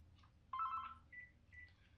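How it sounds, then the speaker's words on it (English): A telephone rings twice during a gaming session, a bright electronic warble followed by shorter tones, faint and heard alone without talk. "some kind of nuisance person was trying to phone me"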